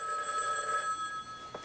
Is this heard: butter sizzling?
no